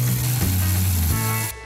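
A hand ratchet clicks while undoing bolts to remove a car dashboard, a close, steady buzzing ratchet tone that shifts pitch mid-stroke, then stops abruptly.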